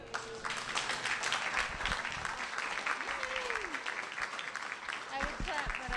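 Audience applause following a science talk about butterflies at a casual public lecture event, a soft, steady patter of clapping from a modest crowd, with voices and brief tonal sounds mixed in.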